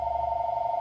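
Telephone ringing at a tattoo shop, a steady electronic ring tone with a fast warble, moderately loud and close, heard alone for under a second.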